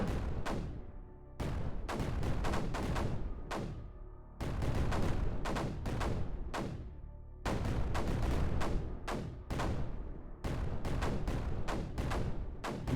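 Mortars and cannons in Creeper World 4 fire in rapid grouped salvos, sharp thumping shots repeating in bursts separated by brief pauses, loud and close with no talking.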